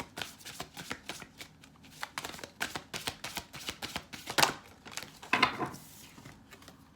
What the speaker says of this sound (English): I'm shuffling these cards quite a bit